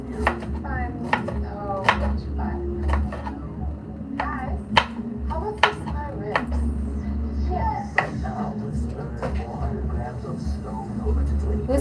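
A knife chops three medium onions on a board while pilau is being made: quick, uneven, sharp knocks come one after another throughout, with a steady low hum under them and speech in the background.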